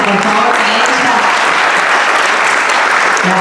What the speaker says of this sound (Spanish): Un fuerte aplauso, por favor, para ella.